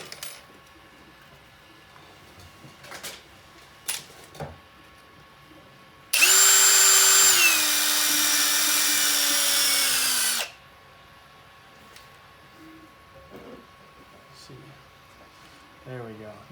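A power drill with a 7/64 bit reams out a tight hole in a PVS-69 gen 2 night vision build, one steady high whine running for about four seconds between quieter handling clicks and taps.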